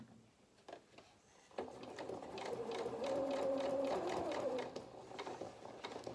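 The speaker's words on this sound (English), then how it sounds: "press the foot down again and start sewing" A sewing machine stitches felt for a small cat head in a steady run of a few seconds, quiet at first and then a close, even whirring hum with fine rhythmic clicking.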